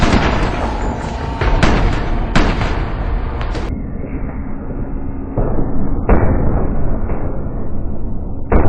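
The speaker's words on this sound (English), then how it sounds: "Felt like there was just way too much shooting." Movie gunfire fired with blanks from rifles, a loud run of rapid shots and bursts in close succession, dense and continuous with no talk.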